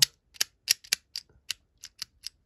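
Ratchet joints of a Masters of the Universe Origins Mantenna action figure clicking: about a dozen crisp, close plastic clicks in a quick irregular series.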